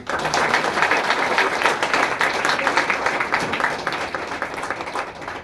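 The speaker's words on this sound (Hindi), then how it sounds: "तो सबसे पहले कमल की माता जी के लिए जोरदार ताली" Enthusiastic applause erupts for Kamal's mother at a women's day gathering, dense, rapid clapping from a crowd close by, holding strong before easing slightly toward the end.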